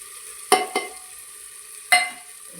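Spices fry with potatoes and peas in a pot for Vidarbha-style fodni khichdi, a quiet low sizzle broken by three short scraping stirs of a spoon, close and without speech.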